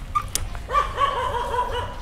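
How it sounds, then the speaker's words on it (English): Street dogs in Thailand bark and yip several times in quick succession nearby, with a few higher whimpering yelps mixed in against light outdoor background noise. "This one here that's barking, he's the one that always chases me the most."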